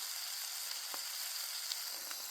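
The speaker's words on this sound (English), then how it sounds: "it's sizzling away down there" Sausages and bacon fry over a campfire beside Lake Barrington, Tasmania, giving a steady close hiss with faint crackles and pops, no voices.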